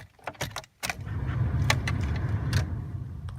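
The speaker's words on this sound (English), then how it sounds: "So I'll give this car a start." Keys jangle and click in the ignition of a high-mileage Pontiac Sunfire, then a brief pause before the engine cranks and catches into a steady, close idle rumble.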